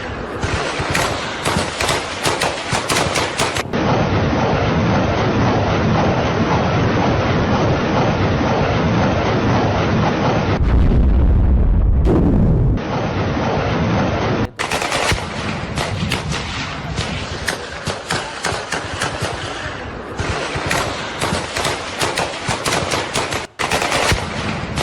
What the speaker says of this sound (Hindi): यह है ऑपरेशन त्रिशूल और गोलियों की तड़तड़ाहट पाकिस्तान को डराने के लिए काफी है।